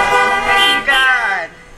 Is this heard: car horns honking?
yes